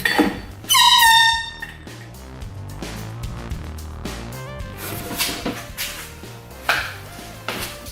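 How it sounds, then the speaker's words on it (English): A handheld air horn blows one loud, brief blast before being crushed in a hydraulic press, followed by knocks and clatter. "Okay, here goes our air horn."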